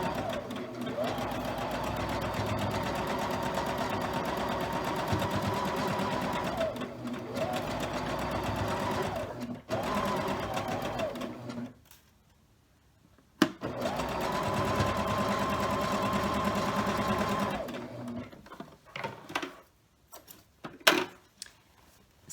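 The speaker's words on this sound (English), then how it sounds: "I'm going to go ahead and sew this. I'm sewing row 1 to row 2." A domestic sewing machine hums steadily while stitching rows of a scrap quilt block together, running in long bursts with short pauses, and a voice talks over the stitching throughout.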